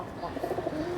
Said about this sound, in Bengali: মাশাআল্লাহ ডাকাডাকি শুরু করছে। আমার এই কবুতরটা 24 ঘন্টা ডাকে।